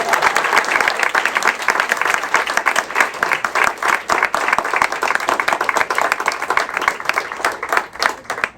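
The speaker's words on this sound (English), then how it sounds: "Can we give them a round of applause?" An audience applauds at the opening of a state-sanctioned overdose prevention center, with many hands clapping in a steady, dense roar from start to finish.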